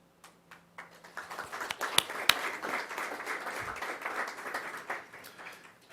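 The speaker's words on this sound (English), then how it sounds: "But another applause for Julian" Scattered applause at a school district board meeting for a student honored for fourth place in the 400 meter race, with several sharp individual claps over a sustained, moderately loud patter.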